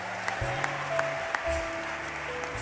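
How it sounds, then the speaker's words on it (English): Church congregation clapping hands for Jesus during a sermon, light scattered claps over organ or keyboard chords, fairly quiet and brief. "Somebody clap your hands for Jesus."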